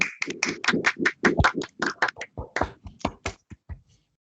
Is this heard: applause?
yes